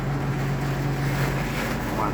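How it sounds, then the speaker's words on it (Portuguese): Very strong storm wind on a farm during rain roars loud and constant, a dense unbroken rush buffeting close by with no pause. "Forte, o vento muito forte."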